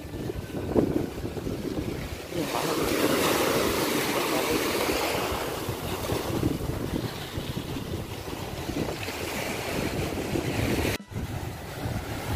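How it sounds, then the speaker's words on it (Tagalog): Strong sea waves after a typhoon surge and rush against the shore in a continuous roar, mixed with heavy wind buffeting the microphone. "kung mapapansin po ninyo, napakalakas pa ng ng alon."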